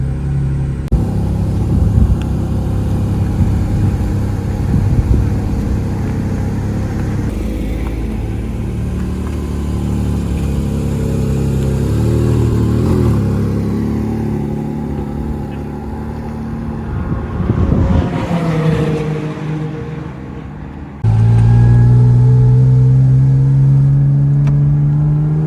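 A Porsche GT4 RS drives on a racetrack behind a lead car, its engine droning and rising and falling through gear changes, loud and steady inside the car.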